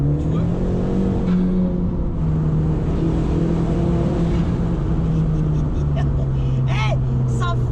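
An Audi TT with doubled torque roars loudly from inside the cabin as it accelerates hard and then brakes, engine drone shifting pitch throughout, with excited voices talking over it near the end.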